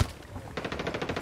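Rapid automatic gunfire rattles in Ghost Recon: Wildlands, a burst of close, evenly spaced shots kicking in after a brief lead-in of quieter rumble.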